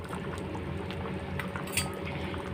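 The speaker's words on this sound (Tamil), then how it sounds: "இப்போ இது நல்லா கொதிக்க ஆரம்பிச்சிருச்சு" Spicy Tamil dried-fish curry (karuvadu kuzhambu) bubbling and simmering in a pot, a low, steady burble with soft pops and occasional light clinks.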